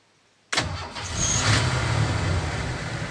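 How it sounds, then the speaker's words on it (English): Car engine cranking and catching after a remote start, a sudden loud burst out of silence that settles into a steady, close idle. "And the engine is running and the air conditioner is conditioning."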